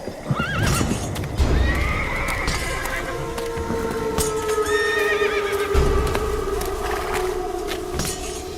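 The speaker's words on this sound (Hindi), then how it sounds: "तभी अचानक घोड़ों की टापों और तलवारों की आवाज आई" Horses whinny repeatedly over a busy, loud mix of hoofbeats and commotion, with several long neighs overlapping near and far.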